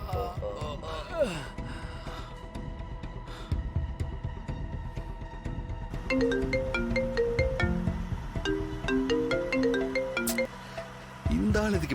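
A phone rings with a call, a repeating electronic ringtone melody that starts partway through and plays close and clear, with voices and breathy sounds before and around it.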